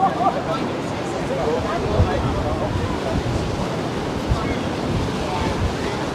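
Rough surf churns along the Paphos seafront in strong wind, a constant roaring wash of breaking waves with gusty microphone buffeting, loud and unbroken throughout with no voices.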